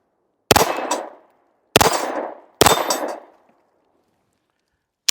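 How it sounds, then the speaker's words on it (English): Three loud, sharp pistol shots from a Tisas 1911 Carry B9R, each followed by a ringing steel-target clang, fired at roughly 16 yards on an outdoor range, spaced about a second apart, with a fourth shot starting at the very end. "another 35 rounds, something like that we're going to shoot through"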